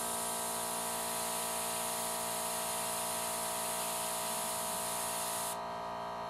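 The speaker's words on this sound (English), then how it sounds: "And there goes my compressor." An airbrush air compressor runs as a steady, close mechanical hum and whir that holds evenly throughout, with a slight change in tone near the end; no one speaks.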